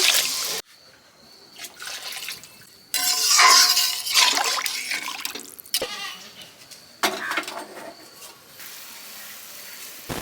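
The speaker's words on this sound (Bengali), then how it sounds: "জল দিয়ে দিচ্ছি" Water poured into a pan of tilapia fish curry: irregular bursts of splashing and bubbling liquid, close and fairly loud, separated by quieter gaps.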